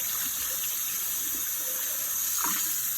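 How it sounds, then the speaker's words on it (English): A container rinsed under a running kitchen sink tap, a steady close hiss of flowing water with faint splashes and clunks, no talking. "So I just give this a nice rinse."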